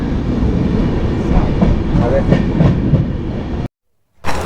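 A train runs at the small, old Murudeshwar railway station, a loud, close, continuous rumble and rattle of wheels with a voice briefly heard, then a sudden cut to silence before the noise returns.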